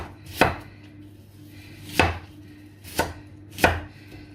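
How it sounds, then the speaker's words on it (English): Peeled, cored cooking apples being sliced with a knife on a board, four crisp separate chops spaced about a second apart, close and clear against quiet background, no talking. "Well, I did peel and core them, so I have to slice them"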